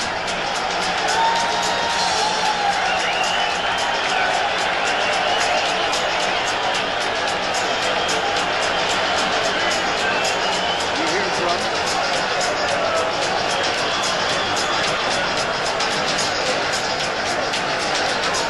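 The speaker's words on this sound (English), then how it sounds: "Listen to this crowd." An arena crowd at the 1980 Duran versus Leonard boxing match roars continuously as Roberto Duran enters the ring, a dense, loud wash of cheering with a voice talking over it.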